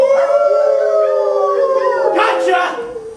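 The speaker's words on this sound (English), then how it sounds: "Hatchet then hears the howl of a werewolf." A long, wavering canine-style howl of a werewolf in a student film rises and bends in pitch, loud and close, then breaks into rougher, yelping tones before fading.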